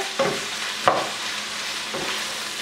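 Carrots get a quick stir-fry in a pan for pancit bihon, a soft continuous sizzle broken by three brief scraping stirs of a utensil against the pan, close and moderately quiet.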